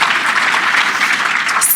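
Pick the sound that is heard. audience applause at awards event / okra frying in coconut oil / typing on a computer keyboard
audience applause at awards event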